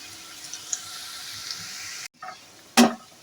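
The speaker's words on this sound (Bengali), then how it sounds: "দুটো বড় সাইজের পেঁয়াজ মিহিভাবে কুচিয়ে নিয়েছি সেটা দিয়ে দিচ্ছি মিডিয়াম টু লো ফ্লেম করে মিনিট দিয়ে ভেজে নিচ্ছে" Two large onions, finely chopped, fry in a pan over a medium-to-low flame, giving a steady soft sizzle broken by a brief pause and a sharp clatter near the end.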